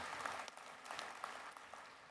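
Applause from an audience at a VFW national convention, a faint, distant patter of clapping.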